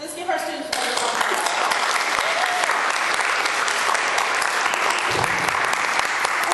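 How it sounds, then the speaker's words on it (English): A crowd at a foster scholarship awards ceremony applauds the students, dense clapping that swells in after a brief quieter opening and holds strong to the end, with some voices and cheering beneath it. "Let's give our students a round of applause."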